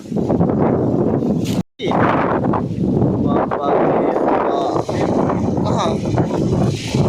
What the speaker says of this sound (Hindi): देखो कितना तेज हवा साइकिल तक गिर गई